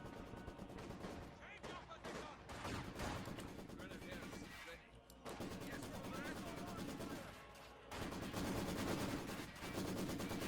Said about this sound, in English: we hear more Maxim machine guns opening up on infantry